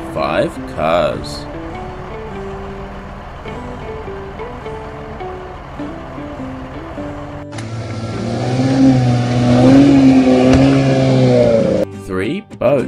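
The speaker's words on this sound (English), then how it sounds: "Five cars." Car engines revving and accelerating, a loud, wavering roar that begins partway through after a stretch of speech and holds strongly for several seconds before breaking off.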